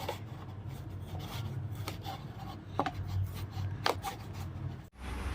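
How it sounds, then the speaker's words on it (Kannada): A knife cuts a banana stem into small pieces on a board, producing a steady close-up rasp of soft chopping and scraping strokes with a few sharper taps and no voices. "ಇದನ್ನ ಚಿಕ್ಕ ಪೀಸಾಗಿ ಕಟ್ ಮಾಡಬೇಕು"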